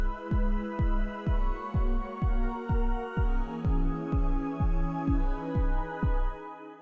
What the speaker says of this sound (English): You can hear the kick and also the pad.